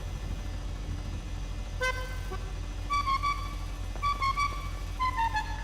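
Car horns honk in a roleplay video game, several short tonal toots in bursts, loud and close over a steady low engine hum, with no talking.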